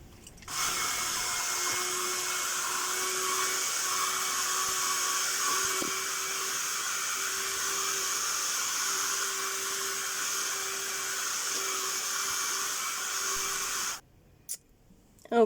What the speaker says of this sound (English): I have been over with the hairdryer, and this is a bit warm to the touch